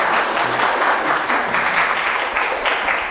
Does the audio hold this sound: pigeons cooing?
no